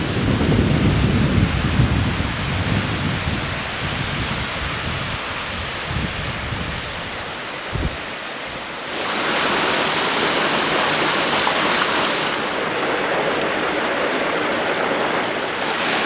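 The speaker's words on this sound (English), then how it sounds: "the waterfall goes into reverse, and if you're standing at the top, you're going to get very wet" Kinder Downfall waterfall on Kinder Scout in the Peak District, where strong wind can blow the falling water back upward: a steady, close broadband rush with heavy low wind buffeting early on, turning into a brighter, hissing spray roar partway through, with no voices.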